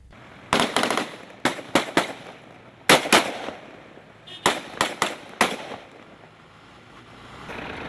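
Police gunfire during a clash with stone-throwing villagers: a series of sharp, loud cracks, some single and some in quick bursts of two or three, spread over several seconds against an outdoor background.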